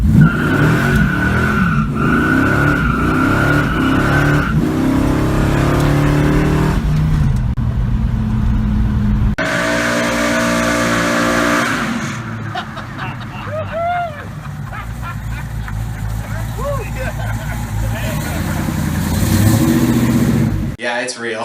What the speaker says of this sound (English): Happiness is doing a burnout in a Hemi Coronet.